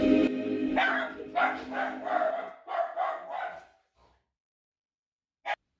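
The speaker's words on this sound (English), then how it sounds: "My dog started barking." A dog barks in a rapid string of five or six yips and barks, fairly close and loud, then falls quiet before one last short yelp.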